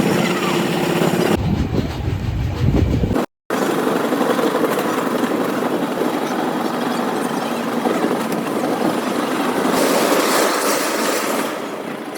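A train from Renigunta rumbles steadily through a station, its broad mechanical roar filling the scene, with a brief cut in the sound partway through and a hiss toward the end.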